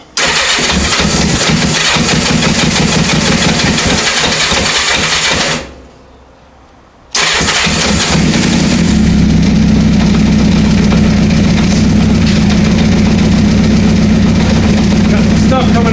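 A 1984 Honda CB700SC motorcycle engine cranks and fires, drops out briefly in a short silent gap, then restarts and settles into a steady, loud idle with a rough low rumble, without choke.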